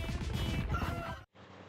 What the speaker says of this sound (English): Yep, it's the chickens.